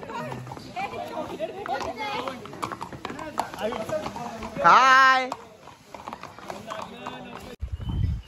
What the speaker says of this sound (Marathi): आता चाललोय घोड्यावरती पुढच्या पॉइंट वरती.